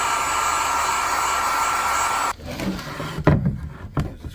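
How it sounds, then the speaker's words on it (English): Heat gun blowing hot air onto a plastic tub on an amphibious vehicle under repair, a steady close roar that cuts off partway through, followed by a few knocks and handling noises. "a heat gun. I'm going to heat this plastic up"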